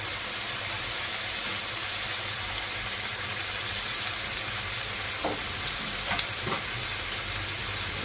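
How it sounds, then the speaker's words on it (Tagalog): Vegetables sautéing in a pan for a Bisaya-style vegetable stew with milkfish, giving a steady dense sizzle throughout with a few faint utensil taps near the end, close and with no talk. "nagisa na yan"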